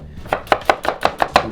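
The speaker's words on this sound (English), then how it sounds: "Dice up the other half." A knife dices an onion on a cutting board, six or seven crisp, evenly spaced strikes in quick rhythm, close and clear with no talking.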